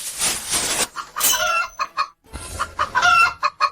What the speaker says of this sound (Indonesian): Ini ayam kampung tua dari rumah.